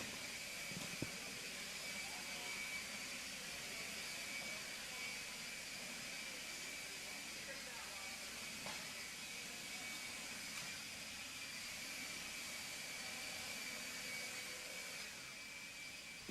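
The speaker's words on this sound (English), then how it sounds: "Grab your blowers, blow the track off." Leaf blowers clear an RC race track at a racing event, a steady, broad airy roar with a high whine running unbroken throughout, moderately distant and with no talking over it.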